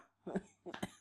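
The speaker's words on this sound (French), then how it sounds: "il y a beaucoup de coupures parce que j'arrête pas de tousser" Two short, close coughs in a row, each a brief harsh burst separated by a pause, with no other sound around them.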